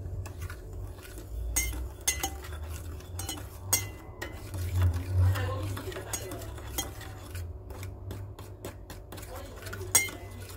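A spoon stirs pork belly with sugar and salt inside a rice cooker, giving scattered metallic clinks and scrapes against the pot at an irregular pace, close and fairly quiet, with occasional speech.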